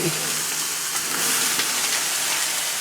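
Steady, loud hissing of water steaming and sizzling on a hot Shirley Fabrication cooker surface, continuing without a break.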